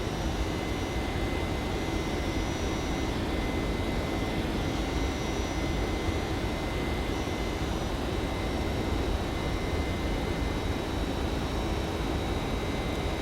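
Airplane engine in flight in the X-Plane flight simulator game, a steady, loud, unbroken drone with broad noisy rumble and no variation across the whole stretch.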